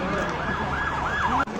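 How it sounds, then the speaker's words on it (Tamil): An ambulance siren wails loudly on a road, its rising and falling tone sweeping steadily before cutting off abruptly near the end, with no voices. "அடுத்த ஆம்புலன்ஸ் யாருக்கு வருதோ?"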